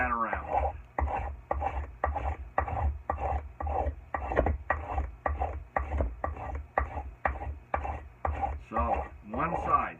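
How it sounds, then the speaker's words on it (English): An axe handle being shaved to hang the head: a rapid series of rhythmic rasping wood-cutting strokes, close and evenly paced, with talk audible underneath. "I'm obviously shaving off a pile more wood on this side of the handle to bring that around."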